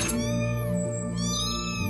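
A cat meows loudly and close, in a drawn-out, wavering cry that rises and falls over about two seconds, with no other sounds.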